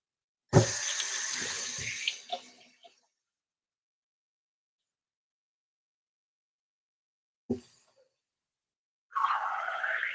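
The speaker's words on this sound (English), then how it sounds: "just gonna wash my hands" A kitchen tap runs as hands are washed under the water during plant-based meal prep, in a loud splashing burst of about two seconds. After a long silence come a brief knock and then the water starting again.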